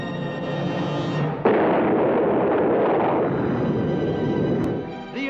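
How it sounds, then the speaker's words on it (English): A cartoon bomb drops and explodes in a 1955 Hanna-Barbera animated Christmas short. A loud, sustained rumbling blast kicks in sharply after a steady roar and holds for several seconds before fading. "while one of them was dropping a bomb over here,"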